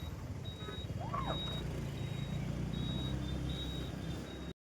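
A truck's reversing alarm beeps steadily at a moderate distance through a traffic jam in Mangaon, over a constant roar of idling engines.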